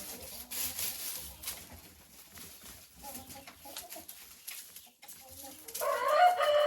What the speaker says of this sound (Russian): И вот так набрасываются куры на эту пшеницу.